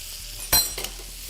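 Steak sizzles in hot oil and butter in a pan, with a low steady hiss broken by a sharp burst of spattering and a smaller flare just after.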